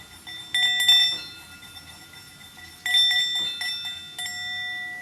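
A yoga bell struck with a stick rings out twice, each strike a bright metallic chime that blooms and then rings on in a long, fading resonance, close and clear with no voices.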